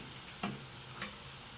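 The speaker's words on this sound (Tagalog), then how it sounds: "prito lang natin. Huwag na kayo maglalagay ng mantika, kasi lalabas naman yung mantika nito." Pork belly frying in a pan in its own rendered fat, with a soft steady sizzle and two brief stirring scrapes, heard close with no talk.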